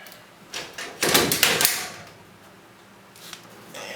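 An Apache camper door is worked free of its frame, giving a few close scraping, rattling knocks and creaks in a short burst, then quieter handling noise.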